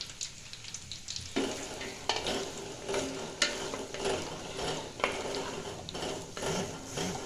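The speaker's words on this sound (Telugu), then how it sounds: "ఇప్పుడు గాజర్ ఫ్రై చేసుకుంటున్నాను" Grated carrots for gajar ka halwa fry in a pan with a continuous crackling sizzle, broken by repeated scraping stirs and clinks of a utensil, close and fairly loud.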